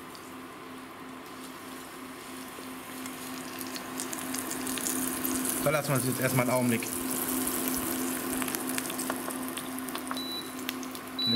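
A salmon fillet hits a hot pan and starts to fry, giving a steady sizzle that swells partway through. Someone speaks German over it.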